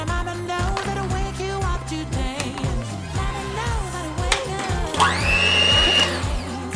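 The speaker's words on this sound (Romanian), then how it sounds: "Da, avem nevoie de un mixer." An electric hand mixer beats sugar into egg yolks for tiramisu, a loud continuous motor whine with shifting pitch as the beaters work the bowl, rising to a higher, strained tone near the end.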